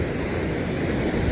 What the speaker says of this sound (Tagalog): Lakas ng alon mga kadatskod.